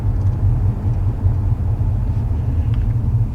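A car drives along with a dash cam running, a steady low road and engine rumble heard from inside the cabin without any talking.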